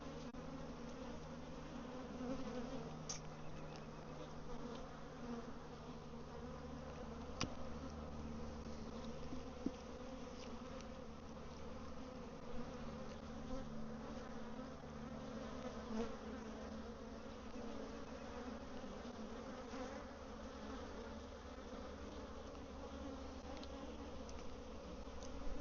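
Honey bees hum in a steady, dense drone from an open beehive, close and continuous throughout, with occasional faint clicks and knocks from handling the frames and no voices.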